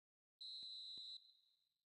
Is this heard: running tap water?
no